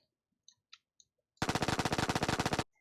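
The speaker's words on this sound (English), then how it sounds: "So you can shoot the rifle off the ladder too" Rapid automatic rifle fire from a video game erupts in a sustained loud burst of evenly spaced shots lasting about a second, preceded by a few soft clicks.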